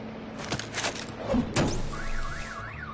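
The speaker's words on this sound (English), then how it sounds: "My bat stunner would set off the car alarm." A car alarm goes off in a Batman video game, with a few electronic thumps followed by a rising and falling warbling tone that repeats steadily and fairly loudly.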